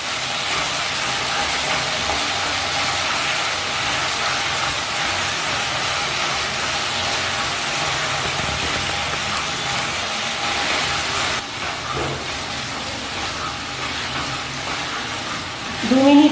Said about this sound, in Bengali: লো ফ্লেমে ভালো করে কষিয়ে নিচ্ছি মশলা, যতক্ষণ না সুন্দর একটা গন্ধ বেরোয়